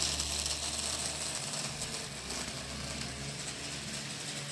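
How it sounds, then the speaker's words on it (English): A small DC motor spins a propeller while powered through a Lionel 1033 transformer, giving a faint, steady whirring drone that holds without a break, with no voices. "you saw for yourself that this motor would not run at all on an AC transformer, and yet on DC it is running splendidly"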